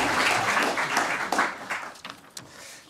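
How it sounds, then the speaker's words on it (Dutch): Audience applause for a speaker at a book presentation, a dense wash of many hands clapping at moderate distance, fading out toward the end with a few scattered last claps. "Geef hem een warm applaus."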